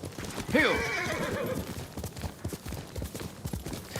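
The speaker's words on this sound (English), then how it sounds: "The horse that just climbed up the cliff" A horse in Ghost of Tsushima gives one loud close whinny that rises and falls, followed by steady clip-clop of hooves continuing to the end.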